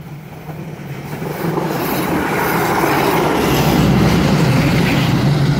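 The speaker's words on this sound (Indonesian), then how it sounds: "Inilah KAIS 3 kereta rel inspeksi 3" An inspection rail car, KAIS 3, rumbles past on the track between Cibatu and Garut, its roar building from moderate to loud and steady with a metallic clatter of wheels.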